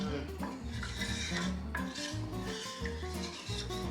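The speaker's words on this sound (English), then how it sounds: "I'm just gonna stir this until the salt dissolves" A spoon stirs a brine of white vinegar and salt in a pot, scraping and swirling against the metal in a continuous close rubbing with occasional clinks, no talk.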